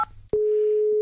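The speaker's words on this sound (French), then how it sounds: "Ok Brigitte, j'appelle Pierre Arditi." A telephone call is placed, with a short beep followed by a steady, loud single tone that holds unbroken for most of a second.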